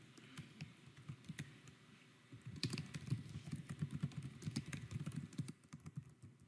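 Quiet typing on a computer keyboard, a steady run of soft clicking keystrokes that grows denser midway, with no talking.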